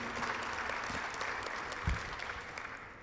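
Audience applause at the closing ceremony of the US-Africa Summit in Marrakech, a steady dense patter of many hands clapping throughout, with a brief louder thump near the middle.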